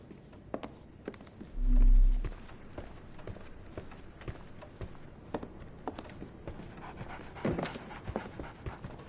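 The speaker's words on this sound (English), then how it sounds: "So, Barnes has a dog now." A dog pants softly in the video game Sherlock Holmes The Awakened, with quick breathy puffs running through the scene alongside light footsteps and one short low thump partway in.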